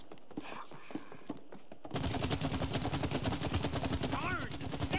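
Gunfire in the co-op video game It Takes Two, starting suddenly after a quiet stretch of footsteps and becoming a steady, loud, rapid stream of shots mixed with game music and effects to the end.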